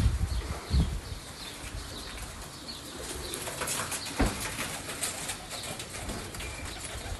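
Pigeons coo softly, in low repeated calls that echo inside a well, along with a few flutters and bumps nearby and no talking.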